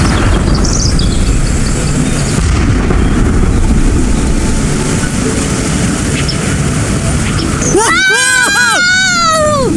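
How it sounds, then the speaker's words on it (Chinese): A roller coaster ride in the game Where Winds Meet rumbles and rushes steadily, then riders' high, wavering screams rise in several swooping bursts near the end, loud and close. "遊戲裡這個尖叫聲做得挺好，沿途還有煙花爆竹營造氛圍"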